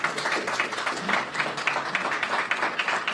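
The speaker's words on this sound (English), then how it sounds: "Can't believe anybody clapped to that" An audience at a police press briefing claps for a few seconds, a steady, moderately loud patter of applause.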